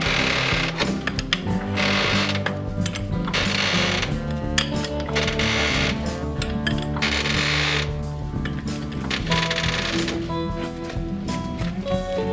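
An impact or power wrench removes the lug bolts from a flat-tire wheel on a Polaris Ranger, heard as a loud, continuous rattling, whirring hammer with rapid ratcheting pulses and brief pauses between bursts.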